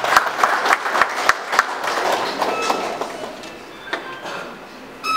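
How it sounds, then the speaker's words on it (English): Clapping at a Baby League sports event, a few distinct sharp claps then a scattered, thinning round of applause from a modest crowd, with a brief voice at the end. "I think you all deserve a big round of applause"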